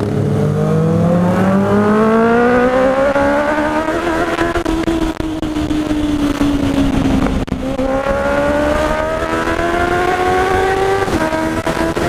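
Motorcycles in a group of about fifteen ride through a town toward the Serra da Paulista, their engines loud and close, pitch climbing through gear shifts and repeated accelerations in a steady roar without talk.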